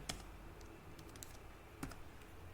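Code is typed on a computer keyboard in a quiet room, a few sparse, faint key clicks and taps, with one sharper keystroke near the start and another near the end, and no talking.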